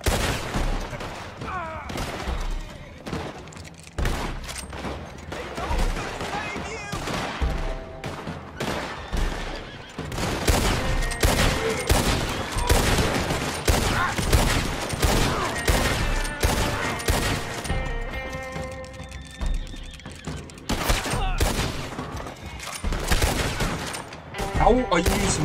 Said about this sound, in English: How are you using a shotgun from over there?